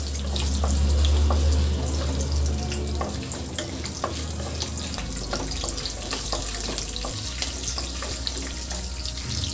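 Moringa (drumstick) leaves fry in hot oil with a dense, steady crackling sizzle and scattered pops, close and continuous, with a low hum at the start and no talking.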